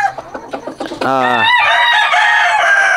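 Chickens cluck in a rapid series of short calls, then a rooster crows close by in one long, loud, drawn-out call that fills the rest of the moment.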